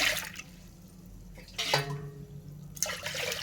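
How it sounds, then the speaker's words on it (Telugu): Warm water splashes and trickles into a pan for chole bhature, in two or three short pours, close by, with quiet gaps between. "దీంట్లో కొంచెం గోరువెచ్చని వాటర్ కూడా వేసేద్దాము"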